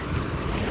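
Sea waves roll and surge around swimmers standing in the water off Kuwait City in the morning, a dense continuous roar of surf mixed with wind buffeting the microphone, loud and close, with no voices.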